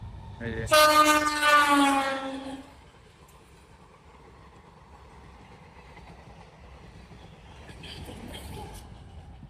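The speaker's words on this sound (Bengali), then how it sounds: "এটা ডেমোটা" A DEMU train passes close by, giving a loud, sustained horn blast for about two seconds, followed by a softer rolling rumble on the rails; a voice speaks briefly.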